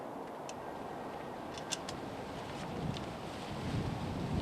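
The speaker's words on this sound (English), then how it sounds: "kind of a windy evening here" Steady outdoor wind on an evening beside a Camaro 3.8 under repair, a low rumbling buffet against the microphone that grows slightly stronger toward the end. No talking.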